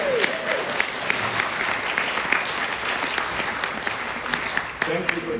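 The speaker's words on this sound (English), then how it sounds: "A round of applause." Audience applause at the opening of an art exhibition of Gondwanan flora photographs, sustained, moderately loud clapping with a few brief voices speaking at the beginning and again near the end.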